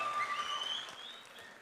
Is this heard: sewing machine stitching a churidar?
no